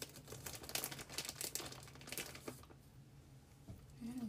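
Kitchen scissors snip through food at a diagonal, giving a close run of crisp cuts and crinkly rustling that thins out and grows quieter toward the end.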